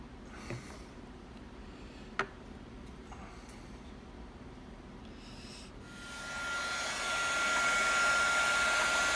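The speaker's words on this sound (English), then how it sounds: "So I'm going to heat my heat shrink." A heat gun shrinking heat shrink tubing over soldered motor connectors starts after a few quiet seconds with faint clicks, then blows a steady loud airy rush with a thin whine that continues to the end.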